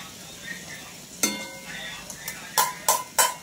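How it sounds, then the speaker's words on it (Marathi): Spices frying in a pan for a village-style spicy mutton curry are stirred, with a low sizzle and several sharp spoon scrapes and clinks against the pan toward the end, close up and with no talk. "बघा याला सगळ्यांना मिक्स करून घेऊ"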